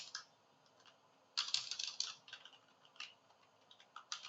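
Computer keyboard typing while entering a website address into a business card design, with bursts of quick key clicks, a dense flurry in the middle and scattered taps around it, close and fairly quiet.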